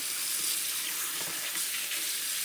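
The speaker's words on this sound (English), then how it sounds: "And you rinse it really well." Tap water runs steadily to rinse a hummingbird feeder, a close, continuous hissing splash that holds even throughout.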